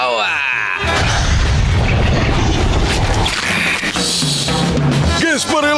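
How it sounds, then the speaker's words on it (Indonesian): A loud, sustained cartoon-style explosion from SpongeBob rumbles for several seconds amid crashing debris, with a voice and whistling tones at the start and end. "Kalau dia marah, maka bumi akan meledak."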